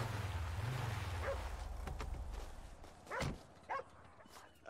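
Dog in the video game GTA 5, a few faint short barks and whimpers over low rumbling game ambience, heard alone at a distance.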